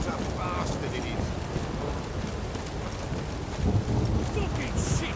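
Heavy rain pours continuously in The Witcher 3 game, low thunder rolling under it and swelling louder toward the end, with faint background voices mixed in.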